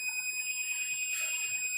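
A multimeter's continuity buzzer sounds as a steady high-pitched electronic tone while its probes sit across the drain and source leads of a shorted transistor in an ATX computer power supply, held continuously and fairly quiet.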